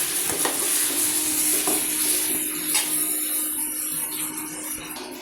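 Potatoes tossed and stirred in a hot pan for pava bateka, with scraping stirs and soft sizzling frying throughout, close and moderately loud.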